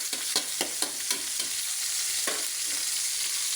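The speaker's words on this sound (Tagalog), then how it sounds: "matusta at kumatas yung ating kamatis bago natin ilagay yung ating bugoong alamang" Tomatoes sizzle in a hot pan for Bicol Express, a soft steady fry broken by several sharp scrapes and taps of a spoon stirring, then quieter sizzling alone.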